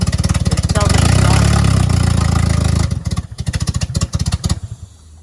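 An engine in a turbo project car, missing its antifreeze and throttle, starting with a turn of the key: a dense, pulsing rumble runs loudly at first, then breaks into uneven choppy firing pulses that fade toward the end.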